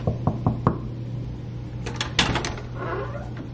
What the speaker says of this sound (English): I'm gonna go knock on Ashley's door